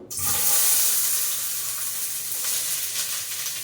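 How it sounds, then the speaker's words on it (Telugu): Onions and green chilies frying in hot oil, a steady close bright sizzle lasting the whole stretch, with no talk over it. "ఇవి ఆనియన్స్ పచ్చిమిర్చి ఇవి రెండు ఫ్రై చేసేసుకుందాము"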